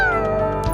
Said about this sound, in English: The cat lifted its head in an enthusiastic response.